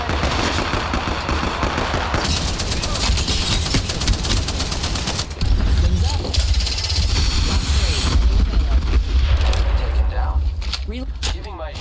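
Rapid bursts of automatic weapon fire and single shots from an Apex Legends match, loud and sustained with overlapping shots and explosive impacts; a voice speaks briefly amid the fighting.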